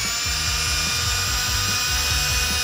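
A power drill whirs steadily as it churns a giant homemade McFlurry of ice cream and M&Ms, its motor pitch dipping and rising in repeated pulses as the bit meets the thick mixture, loud and close throughout.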